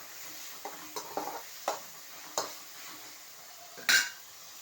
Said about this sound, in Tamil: அப்படியே வதக்கி விட்டுக்கணும்